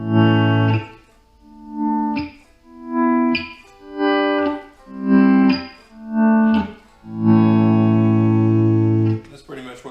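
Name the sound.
electric guitar through delay pedal, delays sustaining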